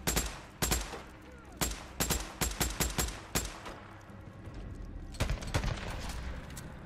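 Gunfire in the video game Days Gone: rapid bursts and single sharp shots in irregular clusters, loud and close over a low background rumble.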